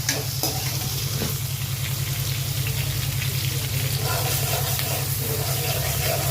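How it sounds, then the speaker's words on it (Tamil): Onions sauté in a pan as tempering for a sardine fish curry, giving a constant close sizzle with scraping stir strokes and a steady low hum beneath, and no talk. "வெங்காயம் வந்து நல்லா கொஞ்சம் கோல்டன் ப்ரௌனில் வதங்கணும். வதங்க வரைக்கும் கிண்டிக்கிட்டே இருக்கணும்."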